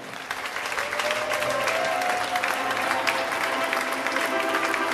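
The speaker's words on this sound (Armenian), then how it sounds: "Ձեր ողջունի ծափերը" Sustained applause from a wedding crowd welcoming the newlywed couple, steady and dense for the whole stretch, with faint voices mixed in.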